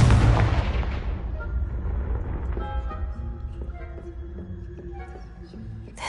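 A Confringo fire spell explodes in Hogwarts Legacy with a loud, deep boom at the start, then a rumble that slowly decays under soft game music tones.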